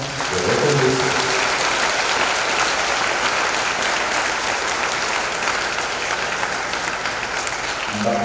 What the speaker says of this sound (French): Que la chorale soit applaudie par don signe de reconnaissance.